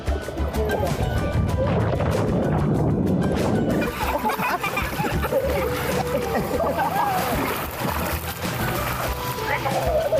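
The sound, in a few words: kids splashing in a pool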